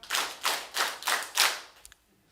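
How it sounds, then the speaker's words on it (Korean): An audience in a Korean church lecture hall claps five times together in a steady rhythm. Each clap is a short burst of many hands, ending in a brief faint tap and then quiet. "자, 박수 한번 쳐볼까요?"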